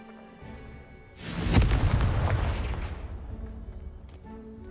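A Confringo spell blast in Hogwarts Legacy: a single loud booming explosion that bursts suddenly, then crackles and rumbles as it fades over a few seconds, with no talk.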